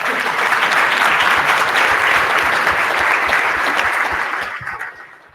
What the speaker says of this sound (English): Can we give a round of applause to the panelists here?